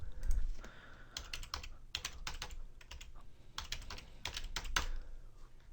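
Computer keyboard keys typed in rapid irregular bursts, close and crisp, clattering steadily with brief pauses between clusters of keystrokes while entering a password.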